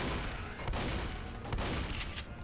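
Game gunfire in a 4v4 team shooter match, with dense, continuous rattling bursts and a few sharper shots, loud and close throughout.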